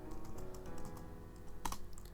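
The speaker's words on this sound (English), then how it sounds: "if I can type." Keys on a computer keyboard clatter softly in short bursts of typing, with a quick louder cluster of keystrokes near the end, close and quiet with no talk.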